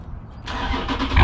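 Dodge Challenger 392 engine catching and rising into a short growling rev, loud and close, the rumble swelling toward the end.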